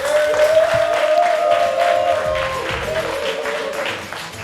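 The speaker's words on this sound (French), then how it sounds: "On applaudit Désiré." A studio audience on a French television show claps in steady applause, with a sustained tone humming underneath as the clapping fades slightly toward the end.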